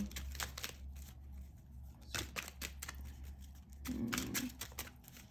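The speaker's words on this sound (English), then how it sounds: "sometimes the shuffling is what takes the longest" A deck of tarot cards being shuffled by hand, heard as quiet, close, rapid riffling and flicking bursts in several separate runs.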